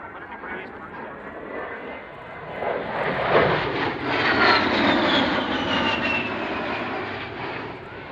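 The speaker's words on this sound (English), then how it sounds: "is now positioning the A-10 for a pass down the show line" An A-10 Warthog jet makes a pass down the show line at an air show, its engine roar swelling from a distant hum to a loud, whining rush in the middle, then slowly fading, with an announcer talking over it.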